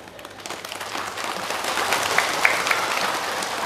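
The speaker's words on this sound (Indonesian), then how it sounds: "Tepuk tangan kita." Audience applause at a Bugis-language Islamic sermon, a dense crackling patter that builds from quiet to steady and fills the whole stretch with no talk over it.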